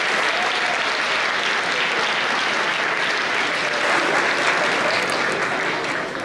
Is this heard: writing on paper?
no